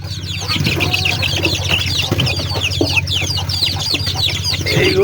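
Desi chickens and chicks in a poultry house cluck and cheep continuously at close range over a low steady hum, with scattered higher peeps throughout.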